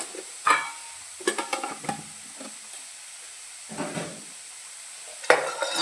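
Roasted peanuts go into a pan of upma in an Indian home kitchen, followed by a few short bursts of spoon scraping and stirring over a quiet sizzle, with pauses between the strokes.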